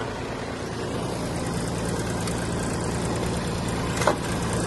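The engine of a Kubota A-195 Japanese mini tractor runs steadily in first gear, a continuous low rumbling drone up close, with a brief clunk near the end.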